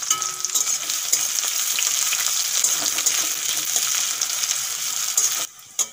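Crushed garlic and chopped onion fry in hot oil in a kadai, a steady loud sizzle with crackling throughout, briefly dropping away near the end.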